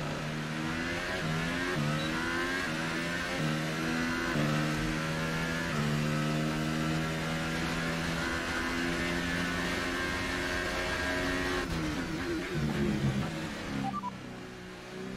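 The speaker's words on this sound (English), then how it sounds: "I think the car sounds a bit weird, like the spare other parts already given up." A McLaren Formula 1 car engine racing at the Azerbaijan Grand Prix in a racing game, in worn condition, screams loud and close, its pitch climbing and dropping through the gear shifts without pause.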